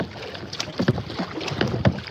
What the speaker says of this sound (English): Just getting a bit windy out here